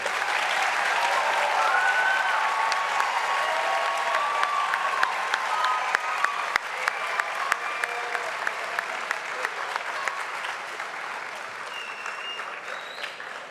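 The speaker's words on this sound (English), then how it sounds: "A round of applause for all of our inductees." Sustained applause from an audience honoring National Junior Honor Society inductees at a Vineland Public Schools induction ceremony, steady dense clapping throughout with a few sharper claps near the end.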